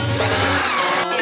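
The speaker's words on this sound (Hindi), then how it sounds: "मैं ड्रिल के साथ काम करूंगी।" A power drill whirs steadily while furniture is being built, a dense, sustained mechanical buzz that runs loud and close for about a second before a brief cut and restart.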